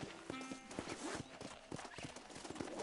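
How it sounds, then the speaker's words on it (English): Horse hooves clip-clop in Red Dead Redemption, a brisk irregular series of close hoof strikes on ground with soft game ambience, a few faint voices in the background. "This steed looks right fetchy, I don't mind telling."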